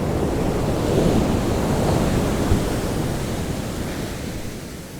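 Ocean surf breaks on a sandy shore where lapwings walk, making a steady, full roar of waves that slowly fades a little.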